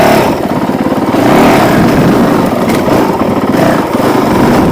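A Honda CRF450L dual-sport motorcycle engine runs hard and revs up and down, a loud, close, buzzing single-cylinder drone from an onboard position with no talking.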